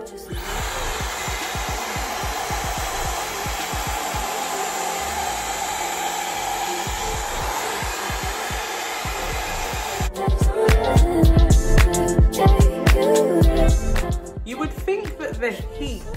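A Dyson hair dryer blows a steady, close airflow hiss while drying kinky straight hair, then turns to louder, choppier rushing and rubbing as it moves through the hair.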